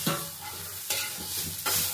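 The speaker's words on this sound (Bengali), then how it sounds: "এতে একটু নারকেলটা ভাজতে থাকবো, নাড়তে থাকবো।" Grated coconut fries over a low flame while a spoon stirs it in a pan, giving a soft continuous sizzle broken by three scraping strokes, close and with no voices.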